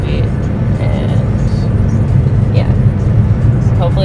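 A car's steady road rumble and low engine drone fill the interior throughout while driving to a Christmas tree farm, with faint talk and small cabin sounds above it.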